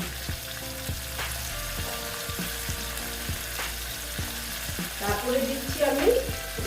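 Gathi kochu taro curry with cumin powder, turmeric and salt is stirred in a frying pan, a close, steady sizzle broken by repeated scraping strokes of the spatula, getting a little louder toward the end.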